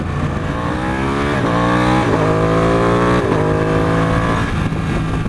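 A 2015 Ducati 899 Panigale motorcycle accelerates hard and close, its loud engine note climbing steadily, then dropping sharply at quick-shifter upshifts, with a rapid succession of gear changes before it climbs again.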